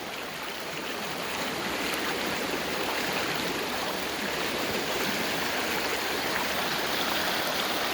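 An overfull creek rushes past a shoreline near a pump house as a dense, steady roar of fast water, loud and continuous from start to finish.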